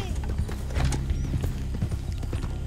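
A horse's hooves clip-clop rhythmically toward the listener in the Red Dead Online video game, with a brief whinny among the steady footfalls and game sounds behind.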